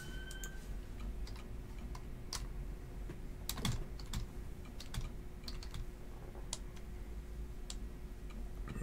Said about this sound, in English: I was typing in already.